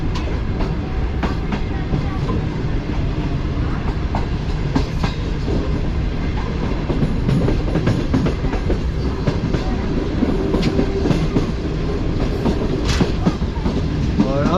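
The Tezgam train rolls on the rails after leaving Pattoki station, a loud continuous rumble with steady clickety-clack and faint squeals heard from on board, with brief murmurs in the background.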